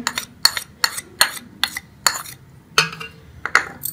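A spoon clinks and scrapes rhythmically against a bowl while mixing a paste of cornflour, egg yolk and milk, about ten sharp close taps with no voices.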